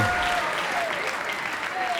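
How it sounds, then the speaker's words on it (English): Brief burst of clapping from a stand-up comedy audience, fairly steady, with a faint tonal whistle or feedback and some voices mixed underneath. "can we please give them a round of applause and welcome them up to the stage?"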